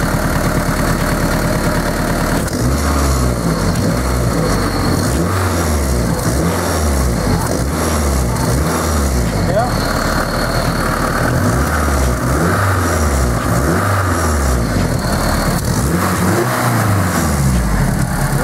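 A turbocharged car engine fitted with a Turbonetics turbo idles loudly and steadily, then rises and falls in a series of rhythmic revs, close by, with no talking.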